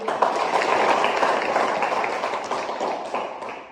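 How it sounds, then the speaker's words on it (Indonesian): Classroom applause for a student during a nursing lesson on rest and sleep, a thick patter of many hands, fullest at the start and slowly tapering off. "Tepuk tangan dulu untuk dia"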